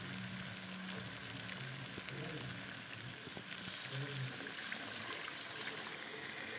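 Broth poured into frying chicken curry, a soft pouring and bubbling sizzle heard close but fairly quiet, steady throughout without speech.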